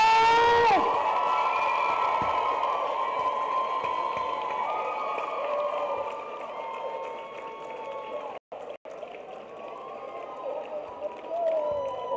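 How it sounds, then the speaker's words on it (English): Loud crowd cheering and applause at a school's 30th anniversary celebration, with whoops and shouting that hold steady before dropping briefly and then rising again near the end. "Please, a round of applause!"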